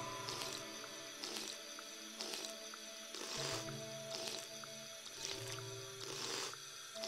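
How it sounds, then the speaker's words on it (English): Drinking from a water fountain in Fallout 3: a steady run of wet slurping and gulping sounds, close and fairly loud, repeating in a regular rhythm with no talking. "Oh, there's a water fountain. That'll work."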